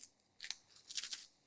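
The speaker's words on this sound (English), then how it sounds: "I forgot scissors. I'll bring the scissors now." A few quiet snips of scissors blades closing, soft and close, in quick short bursts against a near-silent background.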